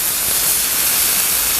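Loud, steady hiss of vegetables steaming on a hot griddle while yakisoba is cooked for catering, a continuous broadband rush with no breaks or voices.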